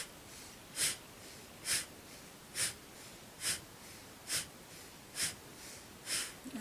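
Rhythmic pranayama breathing through the nose during a morning kriya session, eight sharp, forceful nasal breaths evenly spaced about one second apart, close and clear with no talk.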